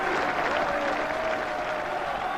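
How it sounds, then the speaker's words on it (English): Football crowd at a 1994 FA Cup match applauding fans and players, a dense, continuous roar of clapping and crowd noise at a loud, even level throughout. "Applause for the fans, an ovation for the players, honour in defeat."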